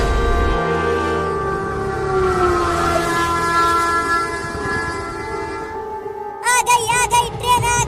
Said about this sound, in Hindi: आ गई ट्रेन आ गई, आ गई ट्रेन आ गई।